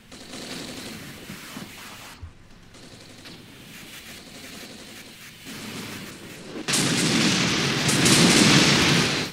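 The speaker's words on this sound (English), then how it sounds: "I also love the sound there of the bullets breaking the sound barrier." Sharp supersonic bullet cracks and rattling gunfire in an Armored Brigade tank battle game, scattered shots giving way to a loud, dense volley near the end, with no voices.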